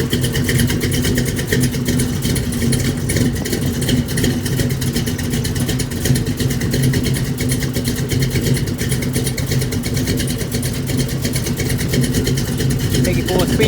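A carbureted car engine fitted with a Holley carburetor runs loudly and steadily with a rough, throaty idle and revs, close by, while people talk over it.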